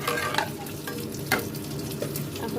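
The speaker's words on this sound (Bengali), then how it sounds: "একটু নাড়াচাড়া করে এখন জল দিয়ে দিলাম" Pork trotters for paya soup fry and get stirred in the pot, with a close, steady sizzle broken by a few sharper scraping strokes of the spoon, and no talking.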